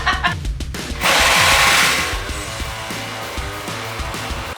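A jigsaw making the first cut through wood while building furniture, with a loud buzzing whine that rises for about a second, then settles into a steadier grinding drone, close by, over faint background music.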